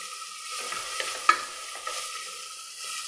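Sliced onion half stir-fried in a pan, with a steady close sizzle of frying and scattered spatula scrapes and clicks, one sharper knock near the middle, no voices.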